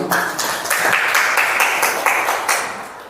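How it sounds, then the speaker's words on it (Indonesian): An audience at a teacher training session claps in sustained, dense applause that stays loud and steady throughout, with many hands blending into a continuous patter. "Tepuk tangan dulu untuk Pak Nyoman dan Pak Mangadi."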